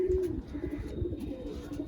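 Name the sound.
pigeons cooing in a loft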